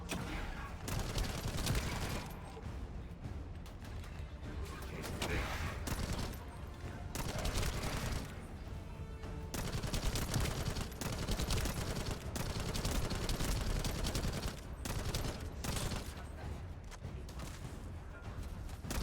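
Sustained gunfire in the shooter game The First Descendant, rapid bursts of automatic shots and heavier booms firing almost continuously, loud and close throughout.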